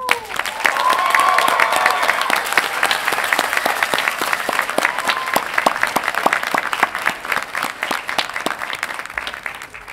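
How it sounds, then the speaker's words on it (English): Loud, sustained applause and cheering from a commencement audience of graduates' families at a College of Agricultural Sciences ceremony, dense clapping with scattered whoops filling the whole stretch. "through your applause and cheering and whatever devices you have to make loud noises"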